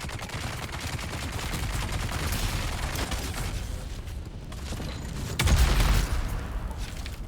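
Rapid gunfire in the video game Dune: Awakening, a dense, continuous crackle of shots with a heavier burst near the end, loud and sustained with no pauses.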